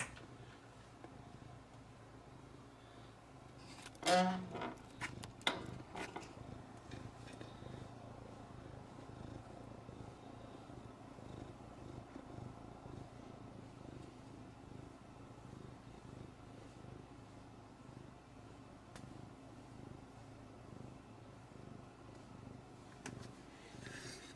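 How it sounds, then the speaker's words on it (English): A kitten purrs steadily and quietly nearby, a soft continuous rumble running the whole time, with a couple of brief louder handling bumps near the start. "Oh, are you a purring kitten?"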